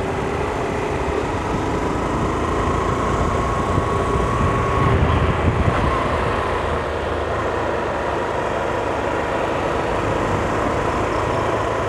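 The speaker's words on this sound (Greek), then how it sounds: "Αεροπλάνο. Αεροπλάνο." A fixed-wing airplane drones steadily overhead on a trip to Germany on an N-MAX scooter, its engine hum continuous and fairly loud across the whole stretch with faint road noise and no clear speech.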